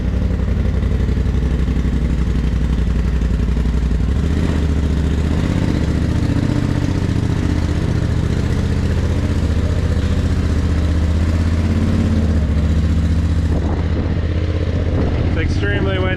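A Polaris RZR Turbo S side-by-side runs steadily at close range, its engine droning loudly and continuously with some clatter and a rising rev near the end, wind buffeting the microphone throughout.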